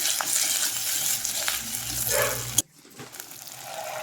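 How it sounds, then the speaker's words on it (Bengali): Garlic and ginger paste sautéing with onions for chana masala, giving a loud close sizzle with scraping stirs that cuts off abruptly, then a quieter sizzle that builds again, no speech. "রসুন বাটা ভালো করে কষিয়ে এবার আমি দিয়ে দিলাম আদা বাটা"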